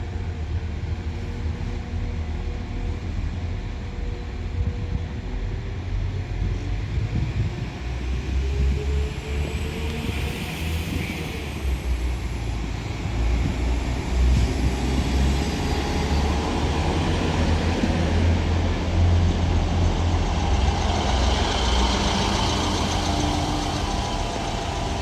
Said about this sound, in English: This Northern 158 is heading to Wigan Moorgate from Leeds.